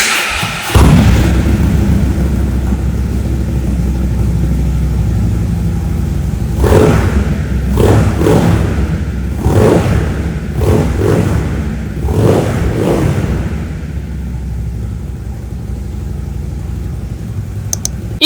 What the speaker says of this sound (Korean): 머플러가 슈퍼트램 머플러입니다. 소리 한번 들어보겠습니다.